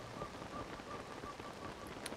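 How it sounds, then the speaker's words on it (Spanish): Rain falling in the video game Zelda: Tears of the Kingdom, a soft, even patter of drops on surfaces, quiet and unbroken. "Porque para acabar de variar, ya está lloviendo, loco"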